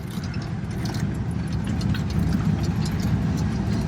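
A 1932 Ford V8 Deluxe Phaeton rolls along in second gear, its steady low engine drone and road rumble constant and close, with no talk.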